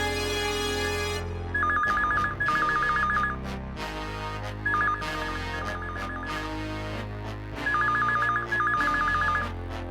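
A telephone rings in repeated electronic trill bursts, three paired rings spaced a few seconds apart over background music, with no talk.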